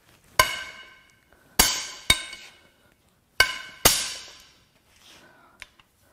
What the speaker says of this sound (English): Some of the loudest head bolts we've had in a long time.